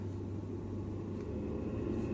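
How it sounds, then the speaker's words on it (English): A car passes on the road outside, heard indoors as a low, steady engine rumble that swells slightly toward the end, muffled and fairly quiet. "Oh, there is a car driving by."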